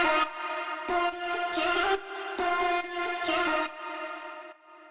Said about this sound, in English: The first most important thing that I changed is the vocal chop.